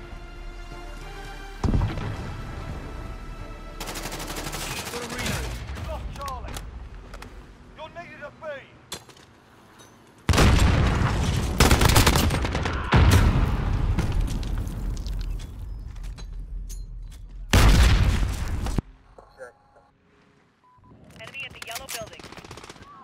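Automatic weapon fire from the video game Call of Duty Modern Warfare, played in a Domination match at Hackney Yard, comes in loud sustained bursts with explosions, mixed with radio chatter and shouted voices.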